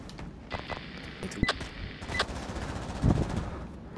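Gunfire from a big gun in the video game Pavlov, bursts of rapid shots and a few sharper cracks spread across the clip over a busy background, moderately loud and close.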